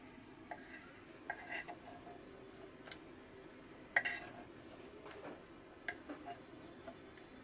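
Fried chilies lifted out of a frying pan after cooking alongside crispy fried puti fish, heard as quiet scrapes and light clinks of a utensil against the pan over a soft background hiss.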